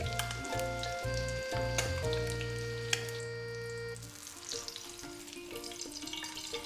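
Potatoes fry in ghee in a pan, a steady soft sizzle with harmonic tonal hum in the first four seconds, then a quieter crackle continuing to the end.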